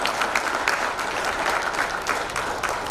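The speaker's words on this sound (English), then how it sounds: "One more round of applause goes to our armed forces" An audience at a business conference gives a round of applause for the armed forces, dense, even clapping from many hands, loud and sustained, with no talk over it.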